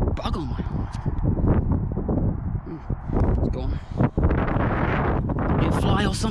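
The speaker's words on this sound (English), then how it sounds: "Don't know if you can hear me over the wind" Strong wind buffets the microphone during a ride through open countryside past farmland, a loud, continuous rumbling roar with gusty surges that fills the whole stretch, while a voice speaks intermittently underneath.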